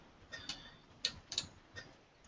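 Dice Masters dice rattle and tumble during a re-roll, giving a handful of faint, quick clicking ticks spread across a couple of seconds in a quiet room.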